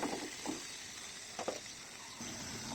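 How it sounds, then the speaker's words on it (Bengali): Cauliflower fries in oil with turmeric and a little salt in a frying pan, giving a steady soft sizzle broken by a few stirring scrapes. "এখন ফুলকপিটাকে একটু ভেজে নেব"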